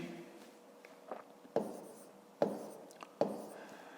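Handwriting on paper while working a grade 5 maths division exercise, a faint scratching pen with a few sharp strokes and taps, quiet and close.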